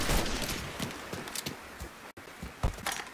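Gunfire in the video game Mafia III, a run of sharp shots and impacts, some loud and close, others softer, scattered through the moment with a brief dropout near the middle.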